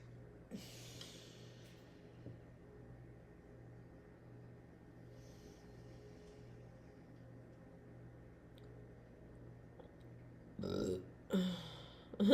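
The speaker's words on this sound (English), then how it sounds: "It's a burp. That's the energy being released." A short burp sounds near the end, after a long stretch of quiet room hum, followed by a couple of brief voiced bursts.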